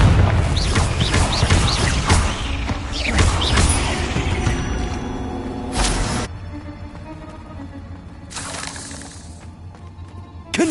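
Repeated booming spell blasts and crashing impacts from the Confringo blasting curse in Hogwarts Legacy on PS5, loud and dense through the first six seconds, then quieter rumbling with another burst near the end.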